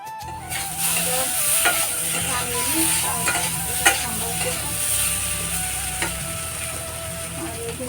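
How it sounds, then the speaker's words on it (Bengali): Small bora fritters frying in hot oil in a kadai, a steady bright sizzle with crackling pops, close and continuous, plus a few clinks of stirring utensils, no talk. "এদিকে কড়াইতে তেল দিয়ে দেবো, আর কেউ ওদিকে তেল দিয়ে তারপর বড়াটা দিয়ে দেবো ছোটো ছোটো করে।"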